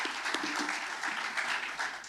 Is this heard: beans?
no